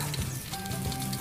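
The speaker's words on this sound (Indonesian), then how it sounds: "Goreng, ya, gedekan apinya." Fried rice with egg and tempeh sizzling in a hot pan over a raised flame, a steady crackling hiss with soft stirring scrapes, close and continuous.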